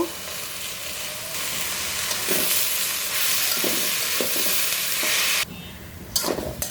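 Spinach with green chilies frying in a pan, a loud, dense crackling sizzle with stirring scrapes, cutting out briefly near the end before short bursts resume.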